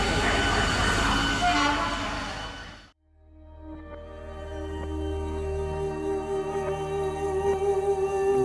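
A Midnapore local train pulls out of platform 13 before dawn. A loud rolling roar drops to near silence, then a low rumble and steady tonal hum build again as the train gathers speed.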